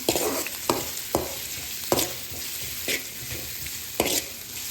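Ginger and garlic sautéing in hot oil for Spanish sardines with pechay, a continuous sizzle broken by sharp spatula scrapes against the pan roughly every second, with no voices.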